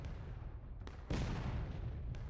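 A musket volley booms in the War of Rights game, a loud, sudden crack that rolls into a rumbling echo over a steady noisy battlefield background with scattered distant shots.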